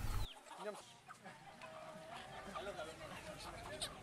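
Village chickens, part of hundreds of illegally transported birds seized by sea police at Gilimanuk, Bali, cluck and murmur softly in a dense mass, faint and continuous, with other birds mixed in.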